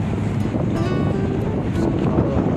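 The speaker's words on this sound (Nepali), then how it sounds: "कस्तो मिठो हावा चलिरहेको छ होइन" A constant breeze buffets the microphone with low rumbling wind noise, steady throughout with no voices.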